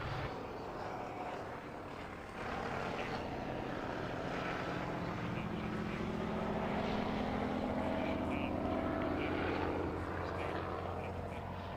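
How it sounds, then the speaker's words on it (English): A two-seater Spitfire flies at an air show at Duxford, its propeller engine droning steadily at a distance with a rising, swelling note over faint crowd and wind noise, under a faint voice. "A resident among the large private collections at Duxford is this two-seater Spitfire, flown by Carol and Grace."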